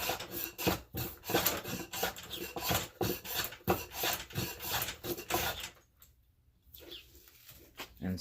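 Hand plane shaving mulberry wood flat, a series of rhythmic rasping strokes close up, each a short swish repeated steadily, then a brief quiet pause before scraping resumes.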